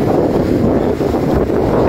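Strong wind buffeting the microphone on a Boracay beach, a loud continuous roar with no letup and no talk.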